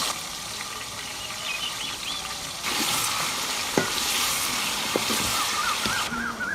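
Chicken pieces frying in a pan with salt and garlic paste, a steady close sizzle with brief stirring clatters and a louder burst of crackling midway.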